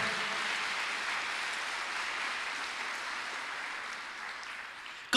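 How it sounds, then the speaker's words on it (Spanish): Church congregation applauding during a Spanish-language service, a sustained wash of clapping from many hands that slowly fades, ending with a sharp close bump. "Dele ese aplauso al Señor si usted lo quiere hacer."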